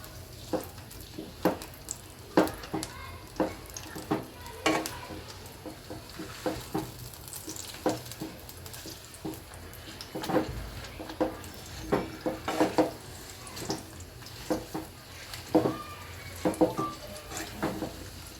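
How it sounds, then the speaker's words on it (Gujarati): Dates sizzling in hot ghee in a pan, a steady crackling fry broken by repeated sharp scraping and clinking stirs, close and clear, with no talk. "આપણું ઘી ગરમ થઈ ગયું છે, આ ખજૂર નાખી દઈશું એમાં। અને આપણે ગરમ કરશું।"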